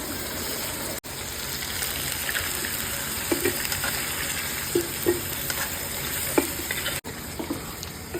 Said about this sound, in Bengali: তারপর মশলাটা ভালো করে কষিয়ে নিতেছে, দেন এতে দিয়ে দিল ফ্রাই করা সেই চিকেন আর